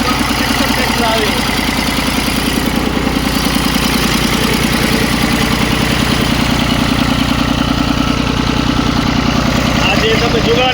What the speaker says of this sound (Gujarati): આ જે તમે જોવો છો એ એક્સપોર્ટ ટ્રેક્ટર છે.